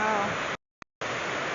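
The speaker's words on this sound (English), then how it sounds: "we walked down to look at the waterfall" Steady broadband roar of rushing water from a waterfall in Iceland, heard from afar, cut by a brief silence with a short blip before the roar resumes.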